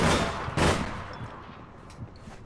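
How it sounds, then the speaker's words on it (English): Gunfire in the online shooter APB Reloaded: a short burst of shots, the loudest blast early, then fading rattling reports and a few scattered pops. "Getting shot."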